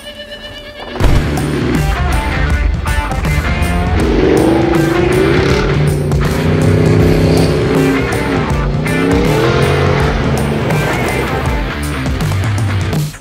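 A 2010 Ford Raptor pickup in off-road mode drives hard over rough terrain, its loud engine revving and rising in pitch steadily up close for most of the stretch, with no talk.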